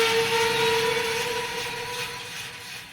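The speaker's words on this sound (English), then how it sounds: "The first thing we have is windmill spin FX long." A windmill spin effect from the Soundiron Rust 4 Relics library, run through delay and reverb, gives a sustained metallic drone with a steady whining tone and a washy, echoing body that slowly fades.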